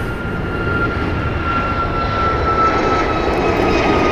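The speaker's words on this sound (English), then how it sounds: "So departing here is Air Canada Flight 775 going to Montreal, a Boeing 737 MAX 8." An Air Canada Boeing 737 MAX 8 departs from the nearest runway at LAX, its jet engines giving a loud, continuous roar that swells slightly as it passes.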